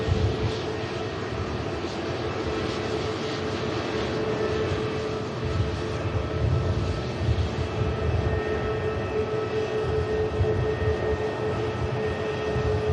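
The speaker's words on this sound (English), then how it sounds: "Beautiful KLM. Goes past us." A KLM airliner passing by at Manchester Airport, a steady, moderately distant jet roar with a faint tonal whine, continuous throughout and heard on its own.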